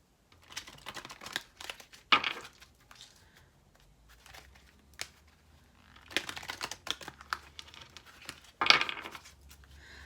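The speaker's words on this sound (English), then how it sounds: "Okay, let's pull some energy cards." Tarot cards are pulled and shuffled from a deck, producing close crisp flicks, slaps and light papery rustles in irregular bursts, with sharper snaps near the start and end and no talking.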